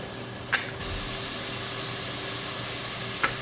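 Wine simmers in a pan for the sauce of stuffed meatballs, giving a steady soft sizzle and hiss that runs throughout, with a couple of brief clinks at the start and end.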